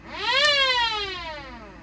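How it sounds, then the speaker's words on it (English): Stall warning siren in the cockpit of a Trident 3 airliner during a pre-flight systems test, a harsh rising wail that peaks sharply and then slowly glides down in pitch, loud and alone. "stall warning test, and you'll hear the stall warning siren"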